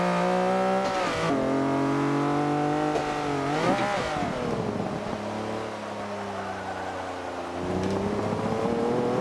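A 1980s supercar, a Lamborghini Countach or Ferrari F40, screams around a track in a driving game, engine revving hard with pitch swooping down on downshifts and climbing again, loud and steady with no talk.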